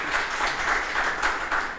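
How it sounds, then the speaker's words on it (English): Meetup audience at a JavaScript gathering in Zagreb gives a round of applause, steady mixed clapping from a modest crowd in a room, sustained with slight swells for nearly two seconds. "So a round of applause for that."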